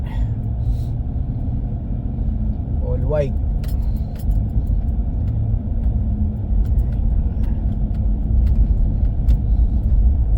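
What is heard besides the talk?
car driving on a road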